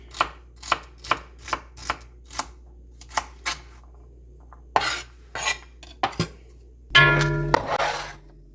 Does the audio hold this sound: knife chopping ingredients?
yes